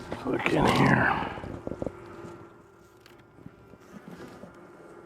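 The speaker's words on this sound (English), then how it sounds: "Oh, there's a bee that's mad." Honey bees at an opened beehive during a warm-day winter hive check, one agitated bee buzzing loudly close to the microphone in a brief burst at the start, then fading into quieter insect hum.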